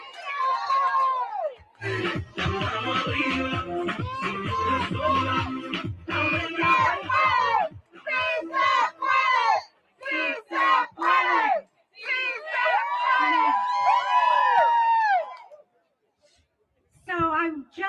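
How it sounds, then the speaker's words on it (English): A crowd at a rally outside the Supreme Court cheers and chants in loud repeated bursts separated by short pauses, with an amplified voice talking between them. "Let's give it a huge round of applause."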